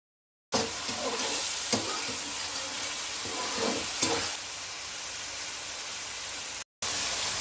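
Onion paste and masala paste sizzle and fry in a pan for a traditional Andhra-style Telugu fish curry, a loud close hiss with a few stirring scrapes, cutting out briefly near the end.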